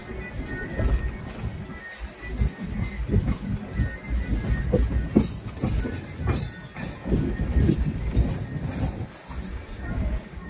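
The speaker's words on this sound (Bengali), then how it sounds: "এখন হাওড়া দিয়ে সবে ট্রেনটা ছাড়লো আমাদের" Passenger train just departed Howrah station, rolling with a continuous rumbling rattle of wheels and carriages, heard from inside with people talking over the noise.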